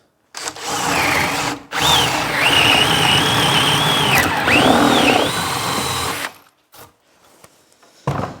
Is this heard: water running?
no